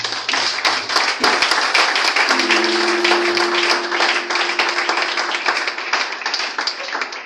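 A church congregation claps steadily at a French-language service, dense and loud hand-clapping filling the room with a sustained tone running beneath it.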